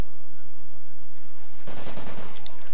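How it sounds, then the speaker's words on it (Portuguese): Gunfire bursts loudly in Call of Duty: Ghosts, a dense, rapid stream of close shots that starts suddenly after a quieter rumbling lead-in and keeps going to the end. "Ele só começou a atirar e me matou"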